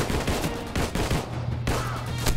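Pistol fire in the video game PUBG, heard as rapid, loud, sharp shots that repeat close together over a dense layer of game noise.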